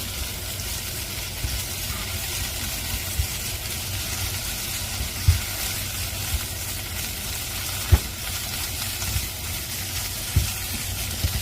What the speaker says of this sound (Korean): 조금 더 볶아 볼게요